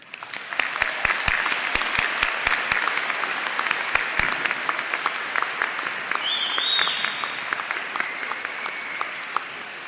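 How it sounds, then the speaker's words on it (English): An audience at a Georgia Gwinnett College spring commencement ceremony applauds in a large hall, the clapping steady and sustained, with a few sharp, close claps standing out and faint cheers near the end. "Please join me in giving these champions the applause they truly deserve."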